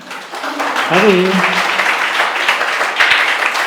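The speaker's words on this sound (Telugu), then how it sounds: "ఒకసారి చప్పట్లు కొడదామా?" Audience applause at a Christmas festival closing ceremony, a steady dense wash of clapping lasting several seconds, with a voice briefly heard over it near the start.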